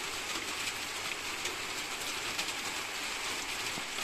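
Rain growing heavier at night in Jelgava, a soft, even hiss of drops on surfaces with faint scattered patters, steady and fairly quiet throughout and with no talking.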